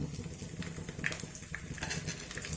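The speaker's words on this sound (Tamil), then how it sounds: "எண்ணெய் காஞ்சோடனே கடுகு, வெந்தயம், சீரகம் போட்டுக்கலாம்." Mustard seeds, fenugreek and cumin sizzle in hot oil in a pan for sambar, a faint, steady crackle with a few soft pops and light utensil noises.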